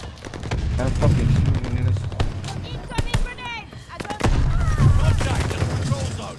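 Shotgun and other gunfire in Call of Duty: Vanguard crack out as loud, sharp repeated blasts, with a player talking over the shooting.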